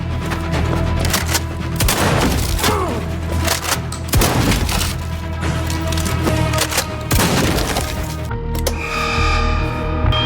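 Rapid bursts of video game gunfire, shots fired into the air setting off an alarm, crack and thump over a busy, dense mix of effects, ending with a brighter electronic tone.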